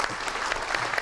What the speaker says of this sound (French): je vous propose de nous applaudir collectivement pour nous faire part de votre enthousiasme